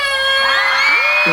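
Concert crowd of fans at an outdoor seaside fireworks festival screaming in a dense sustained roar of high-pitched shrieks, loud and continuous, with a few rising whoops near the end.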